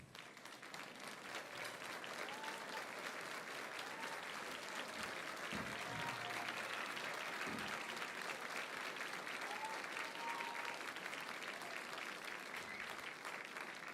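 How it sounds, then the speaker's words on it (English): An audience at the 2017 NATAS Northwest television awards ceremony applauds for the board members, a sustained, even wash of clapping from many hands that continues without a break. "we can give them a round of applause"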